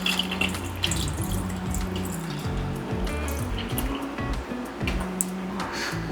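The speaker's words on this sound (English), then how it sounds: "You want to pour the mixture inside of this bag." Liquid marinade pours and sloshes into a plastic bag holding boiled eggs, a continuous close, wet trickle with soft squishing throughout.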